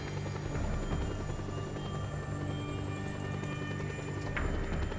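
An attack helicopter in Just Cause 2 hovers with a continuous low rotor drone and whine, fairly faint and steady throughout with no voices over it.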